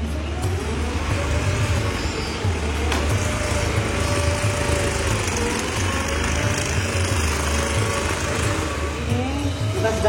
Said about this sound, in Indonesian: Jadi karpet yang sudah dipotong kita rapikan dengan mesin obras ini